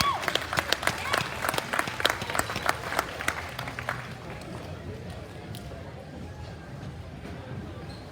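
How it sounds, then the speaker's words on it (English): At a swine showmanship event at the Arizona National livestock show, an indoor crowd claps loudly for about four seconds, then the applause fades into quieter arena murmur and talk. "Give them a round of applause."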